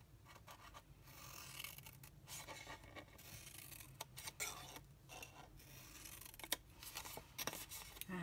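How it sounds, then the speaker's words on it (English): Scissors snip repeatedly through paper while cutting into the corners of a paper Easter egg box, a steady run of close, crisp scraping cuts with short pauses between them and no talking. "grab your scissors, you're doing the exact same thing as a fan. So you're cutting into this corner on each side and tabbing it."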